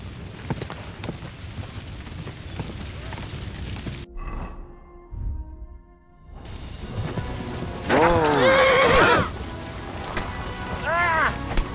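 Rapid hoofbeats pound along with clattering noise, a brief pause, then a horse's shrill whinny rises loudly, followed by another fainter whinny, in the video game Kingdom Come: Deliverance 2.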